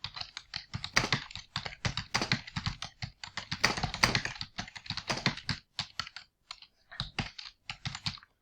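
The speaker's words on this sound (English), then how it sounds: "So the text that I'm going to do is I'm just going to type in something." Text is typed on a computer keyboard in quick, uneven bursts of clicking keystrokes with short pauses between them, close and fairly quiet, and no voice is heard.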